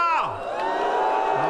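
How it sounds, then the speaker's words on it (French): A live comedy-show audience whoops and cheers loudly, with several voices rising and falling and sustained crowd noise running under them throughout. "On applaudit bien fort Marlène Schiappa."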